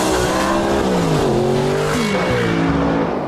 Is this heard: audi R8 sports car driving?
yes